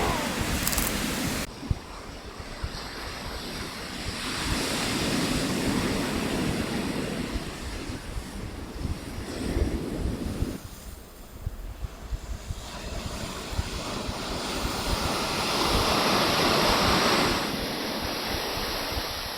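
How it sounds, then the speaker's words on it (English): Steady broadband wind roars and buffets the microphone at a chilly, sunny seaside camp, with surf-like rushing swelling and easing continuously throughout, loud and close with no voices. "even if it was pretty windy and chilly"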